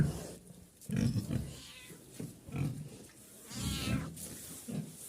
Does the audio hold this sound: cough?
no